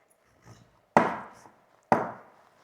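A knife slits a brinjal down the middle on a board, two sharp cutting thuds about a second apart after a faint rustle, close and alone without talk.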